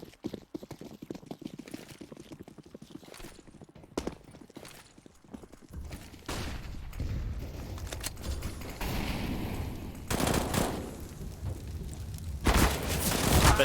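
Rapid gunfire sprayed through smoke in a Counter-Strike match during an ESEA Open Season 35 game between XPG Invicta Female and Komp5, with loud bursts and booming shots building over the second half.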